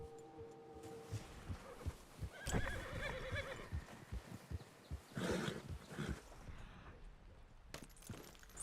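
A horse in the Red Dead WildRP video game whinnies and snorts as it leaves a stall, hooves clopping in scattered beats in between, with a few bursts of louder whinnying against a faint background.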